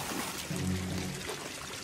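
Water pours and splashes from a leaking pipe in a cartoon scene, a quiet, steady pouring stream with a brief tonal sound over it.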